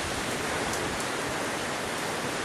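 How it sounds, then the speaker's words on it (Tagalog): Heavy rain pours down in a steady, dense hiss that fills the whole stretch without pause, loud and close with no voices over it. "Lakas ng ulan, bes."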